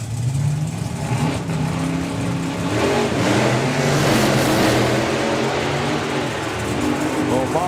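A nostalgia drag racing car runs down the strip at the Nostalgia Nationals, its loud, sustained engine roar rising and falling throughout while a commentator talks over it.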